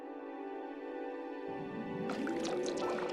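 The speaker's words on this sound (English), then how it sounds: "As he smacks the water surface with his back fin, water splashes onto the leaf above." A fish in an Amazon river smacks the water with its tail fin, throwing splashes onto a leaf above. A burst of close wet splashing comes near the end over a steady tonal background.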